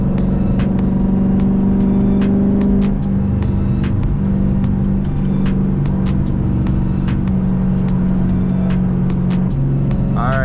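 A Dodge Challenger engine drones loudly from inside the cabin while driving, a steady heavy rumble that shifts pitch slightly as it pulls, with road noise and no talking.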